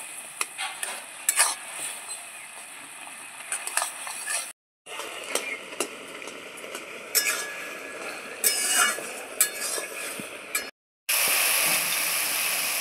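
A spoon scrapes and stirs besan (gram flour) with melted sugar paste in a pan for laddu, making close, repeated scratchy strokes over a soft sizzle, with a couple of brief silent breaks.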